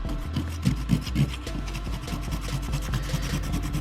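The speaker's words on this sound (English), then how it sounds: "Now let me scratch it" Fingernail scratching a DTG print from an Epson F2100 printer on cardboard, a close, continuous scratchy rasp in quick repeated strokes over a steady low background hum.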